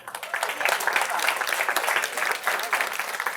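An audience claps for a speaker at a talk: a dense, lively burst of many hands that swells quickly after a brief start and holds steady to the end.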